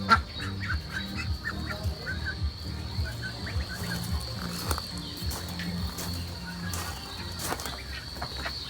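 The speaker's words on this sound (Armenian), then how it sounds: "Այստեղ բադիկներն են։" Ducks in an enclosure at a play area with other birds nearby, giving repeated low, nasal quacks and honks at moderate distance over steady faint background hum.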